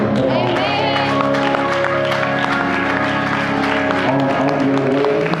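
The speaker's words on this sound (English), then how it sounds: "y'all clap your hands and say amen" A church congregation claps along amid a loud, sustained backdrop of organ or music tones and voices, a continuous wash of hands rather than distinct beats.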